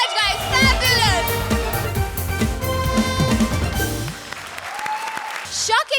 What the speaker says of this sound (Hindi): कृष्णा और सुदेश के लिए जोरदार तालियां